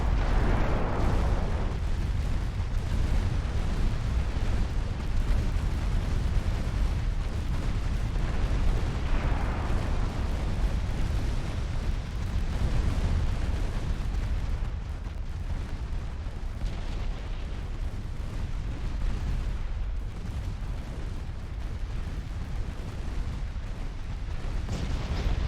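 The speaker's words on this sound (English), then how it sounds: "Secondary guns punishing her." Warship secondary guns pounding away in Ultimate Admiral Dreadnoughts naval combat, a continuous roar of repeated booming shots and explosions rolling over each other for the whole stretch, heavy and low.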